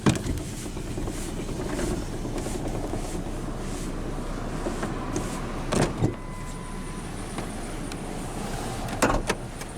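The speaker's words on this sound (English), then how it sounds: "But now we'll roll down the driver's window" A power window on a 2004 Mazda B2300 regular cab pickup rolls down on the driver's side, a steady whirring hum running under the truck's ambient noise, with a few sharp clunks and thuds near the middle and end.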